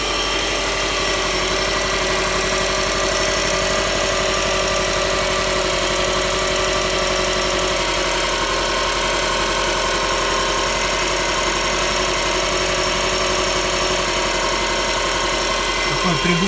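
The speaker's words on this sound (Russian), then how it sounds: "Такой приглушенный стук." A warmed-up car engine revs continuously with a steady, dense running drone, a muffled knocking buried within the engine noise throughout, close and loud with no pause.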